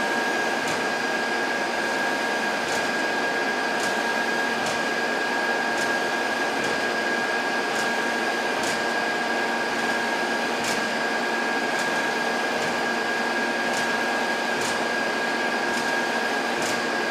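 A Sunnen SV 3 vertical two-stage honing machine runs at a faster spindle speed, giving a steady, loud mechanical whine with a constant tone and faint regular ticks, continuous and alone with no talking.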